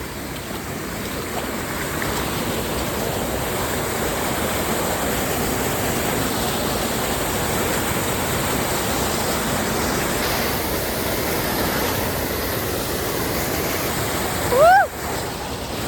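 A small waterfall pours steadily, a dense even rush of falling water that holds throughout, with a brief chirp-like sound near the end.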